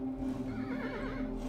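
Horse neighing in a medieval kingdom strategy video game, a loud, close whinny with a strong tonal pitch sounding steadily across the whole short stretch.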